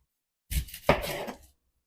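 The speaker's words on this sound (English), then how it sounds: "So I want to get rid of both ends, cut it in half." A knife chops through a vegetable on a countertop cutting board, trimming the ends for fajitas, giving two close, sharp cuts about half a second apart after a moment of silence, then a brief rustle as the sound fades.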